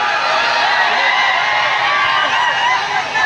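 A large crowd at a live Kannada comedy and cricket-themed stage show cheers and whoops loudly and steadily for the whole stretch, a dense continuous roar with no talk standing out.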